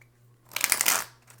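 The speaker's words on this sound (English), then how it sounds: "we got one more shuffle and then we're going to start pulling cards" Tarot cards being shuffled in one brief riffling burst, close and fairly quiet, against a faint steady hum.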